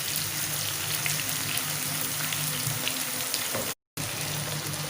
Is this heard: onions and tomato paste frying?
yes